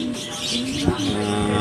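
Pet pigeons coo softly and steadily in a short burst, close by with a constant background hum and no voices.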